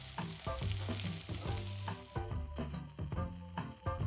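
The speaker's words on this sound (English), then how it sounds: "I'm literally just going to sear this for about 20 to 30 seconds on each side." A thin steak seared briefly in a hot pan, meant to stay pink inside, gives a soft sizzle with scattered clinks and knocks; the hiss thins out partway through.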